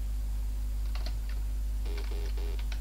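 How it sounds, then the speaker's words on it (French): Keys pressed on a Thomson MO6/TO8 home computer keyboard, a few scattered clicks and then a quicker cluster of taps, heard over a loud steady low hum. "En appuyant sur une touche du clavier"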